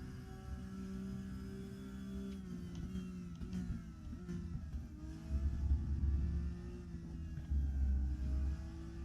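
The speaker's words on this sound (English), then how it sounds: "I was barely hearing the car sound myself" A 2019 Porsche 911 GT3 R race car engine in the RaceRoom Racing Experience video game hums and revs at a low level, rising and falling with occasional louder surges, fairly faint throughout.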